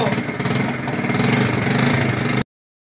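Motor Star Nicess 110 motorcycle engine running steadily at close range, a continuous mid-pitched drone with a slight rise in intensity before it cuts off abruptly.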